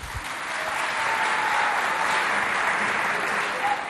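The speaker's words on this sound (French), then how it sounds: "Applaudissez bien fort pour eux encore." A school competition crowd applauds the candidates again, a continuous dense patter of many hands, fairly even in loudness and somewhat distant, holding steady for several seconds.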